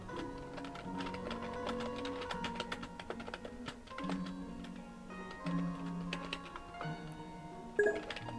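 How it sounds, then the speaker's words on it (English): Keys on a computer keyboard clatter in an uneven run of soft taps, quiet and close, over a faint musical hum. "My keyboard's here."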